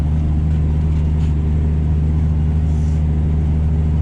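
A tractor engine pulling a plough at lower revs, around 1500 rpm, hums with a steady, close, low drone and constant rumble and no talk.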